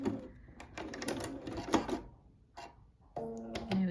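A sewing machine back stitches a quilt binding, close by, in short rattling bursts separated by brief pauses, with a louder run at the end.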